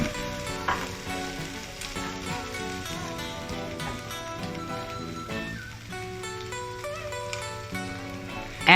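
Chili bean paste sizzles and crackles in a hot wok while glass noodles with minced meat are stir-fried, a steady dense frying hiss with scraping stirs throughout and no talk.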